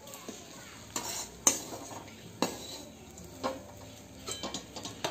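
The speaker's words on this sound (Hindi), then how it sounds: "अब हम इसमें ये फ्राई किया हुआ ये प्रॉन्स से ये डाल देंगे। इसे अच्छी तरह से मिक्स कर लेंगे हम।" Fried prawns being stirred into masala in a cooking pan for prawn curry, with a spoon clinking and scraping against the pan in several separate knocks over a quiet sizzle, close and fairly soft.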